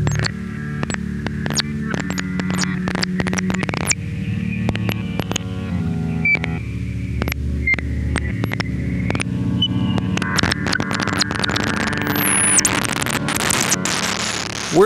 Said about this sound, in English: Here I've got a guitar loop pitched down and playing in reverse on Blooper.